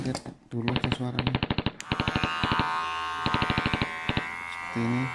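A Wahl Senior hair clipper runs with a loud electric buzz, broken into rapid stuttering bursts and steadier stretches of motor hum.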